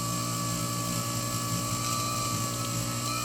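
A buffing wheel with rouge polishing a fossil echinoid, Scutellaster major, giving a steady, continuous motor whine and whir with a constant hum throughout, no talk.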